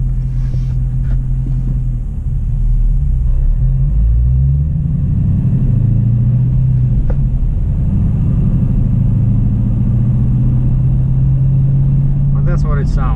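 A 2018 Dodge Challenger R/T 392 Scat Pack's engine rumbles deep and steady while driving at low speed, a continuous loud low drone heard from inside the car, with someone talking over it.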